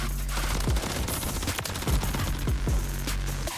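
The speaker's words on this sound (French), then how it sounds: "Parce que l'arme tire super vite en fait." Rapid automatic fire from a fast-shooting weapon in Call of Duty Modern Warfare 3, a dense, continuous rattle of gunshots with sharper individual cracks, loud and without talk.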